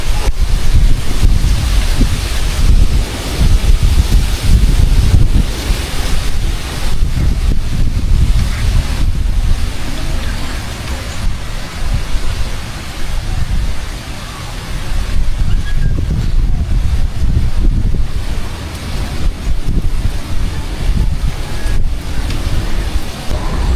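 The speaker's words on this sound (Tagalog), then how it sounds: "pabugso-bugso na po ang hangin ngayon" Gusty typhoon wind buffets the area outdoors, a loud roaring rush that swells and eases in repeated gusts with heavy microphone buffeting throughout, no voices over it.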